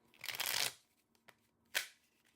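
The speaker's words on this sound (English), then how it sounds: "So we have a bit of the clumsy shuffling." Tarot cards shuffled by hand in a quiet room, one long riffling burst followed by a soft tap and a second short clumsy riffle, close and fairly soft.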